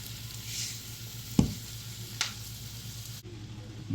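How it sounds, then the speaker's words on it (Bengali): Onions with a pinch of salt frying in oil for an egg and lentil dish, a quiet steady sizzle with a couple of sharp knocks of a spoon against the pan. "পেঁয়াজটা সুন্দর করে একটু ভাজি নেব।"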